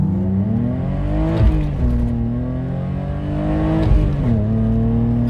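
A BMW E30 325i straight-six engine revs up and down repeatedly, its smooth rising and falling tone close and steady, with two sharper rev peaks; no voices.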